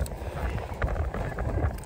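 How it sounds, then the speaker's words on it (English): Low, rumbling gusts of wind buffet the microphone steadily, with a dull roar that swells and eases throughout. "It's a very windy day today"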